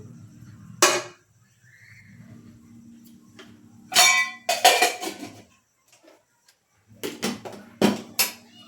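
A metal kadai set down on a stovetop before ghee is added, with several sharp clanks and rattles of cookware spread across the clip, separated by quiet pauses.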